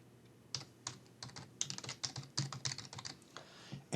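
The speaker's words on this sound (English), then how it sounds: "So we type his username right here." Close, quick clicks of computer keyboard keys as a username is typed, irregular bursts of tapping at moderate volume with no voice.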